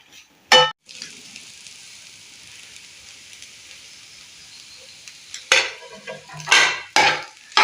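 Fried paneer gets mixed into spinach rice in a pan: a soft steady sizzle runs low underneath, and several sharp scraping and clinking stirs of a spoon against metal come in bursts near the start and end.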